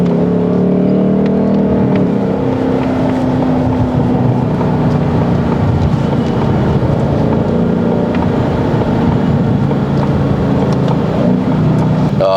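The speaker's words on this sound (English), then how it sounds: "give it a bit more throttle." A Ford Mustang Mach 1 V8 in paddle shift mode pulls hard under throttle, a loud, dense, steady engine roar with rumbling exhaust that holds throughout, heard close from inside the car, no voices.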